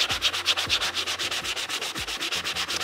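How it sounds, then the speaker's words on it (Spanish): Sandpaper rubbed in quick, even back-and-forth strokes over a small metal plate being aged, about a dozen rhythmic scrapes, close and clear with no talking. "voy a pasar un poquito la lija"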